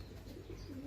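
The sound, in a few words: pigeons cooing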